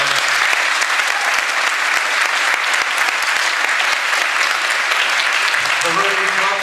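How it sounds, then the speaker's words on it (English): An audience at a jazz camp performance claps steadily and loudly throughout, a dense, continuous round of applause with no voices breaking through. "can we have a round of applause again for them?"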